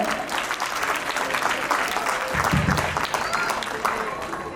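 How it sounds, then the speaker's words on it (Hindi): Loud, sustained applause from an audience at a school annual function, a dense wash of clapping hands that continues steadily throughout. "एक बार फिर से मैं चाहूंगी जोरदार तालियां हो जाए"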